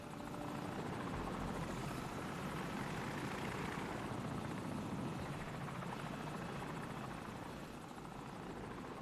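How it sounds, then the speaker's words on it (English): An enemy helicopter flies over in Call of Duty 4: Modern Warfare, a continuous loud rotor chop and engine roar that swells and slowly eases off. "Enemy helicopter! Get down!"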